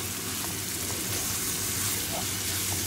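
Minced meat frying in a hot pan with panch phoron spices, a loud continuous sizzle and crackle that stays steady and close throughout, with no voices.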